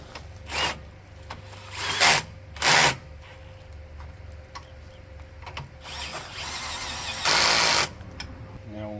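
Power tool tightening bolts on a Hyster forklift lift cylinder during repair, several short whirring bursts and one longer run, nearby, with quiet workshop background between.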